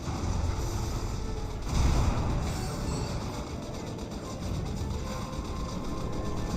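An Athena cannon orbital strike in Red Alert 3 lands as a dense, booming barrage, with a heavier blast near two seconds over sustained battlefield rumble.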